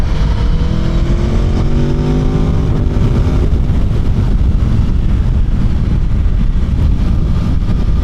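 An Aprilia Tuono V4 motorcycle engine pulls hard while riding, with a loud steady roar and rising tonal revs early on that settle into a dense, continuous drone mixed with rushing wind.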